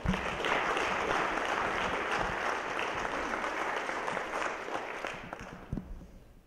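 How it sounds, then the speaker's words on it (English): An audience gives a round of applause, a thick wash of clapping from many hands that holds steady for about five seconds, then tapers into a few late, isolated claps. "will you guys give them both a round of applause as they come up?"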